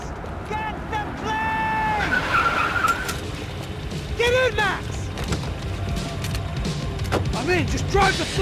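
A car in the video game Max Payne 3 drives hard and skids, with repeated squealing tire screeches over a steady engine roar, loud and close, while voices shout in the background.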